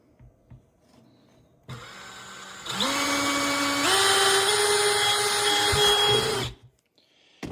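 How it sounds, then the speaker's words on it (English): A power drill whines up to speed and bores steadily through a plastic bucket for a few seconds, loud and close, then stops abruptly. "I'm going to just go ahead and drill the first hole"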